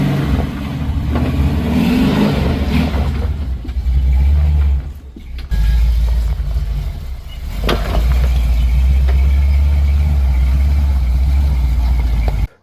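A pickup truck drives over rough trails carrying strapped-in gear, with a loud, continuous engine drone, rattling and jolting bumps, and a brief dip in the noise midway, all without voices.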